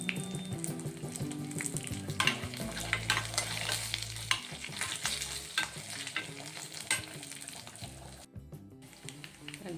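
Asafoetida sizzles in hot oil for a Hyderabadi wedding-style bottle gourd dalcha tempering, a steady close frying hiss with stirring clatter and low pan rumble throughout.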